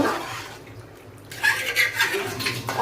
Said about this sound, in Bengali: হাঁড়ি ভরে পানি দিব, কারণ চাল অনেক, সাথে আছে সবজি।